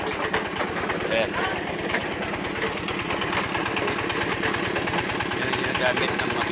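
A machine engine used in gold mining processing in Masbate chugs steadily with a rapid, loud mechanical pulse, while people talk nearby.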